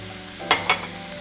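Onions, garlic and rosemary sautéing for ciabatta stuffing, heard as a faint pan sizzle with two short bursts of stirring scrapes near the start of a quiet stretch.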